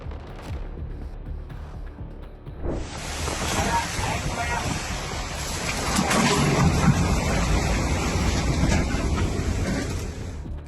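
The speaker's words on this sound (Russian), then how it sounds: "пострадало от сокрушительного шторма, принесшего ураганный ветер и гигантские волны" Storm on the northern coast of Messina province, Sicily, with hurricane-force wind and giant waves; a steady broadband roar of wind and surf that swells sharply after a few seconds and stays loud and continuous.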